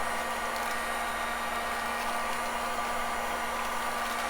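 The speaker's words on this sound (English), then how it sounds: "So I have the heat gun, and then I go probably about 2 feet away, and then I turn it on" A heat gun blows hot air from about two feet away onto homemade aromatherapy shower steamers, a steady, even whoosh of airflow with a faint hum, continuous and unbroken throughout.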